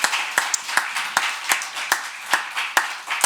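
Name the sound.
church congregation applauding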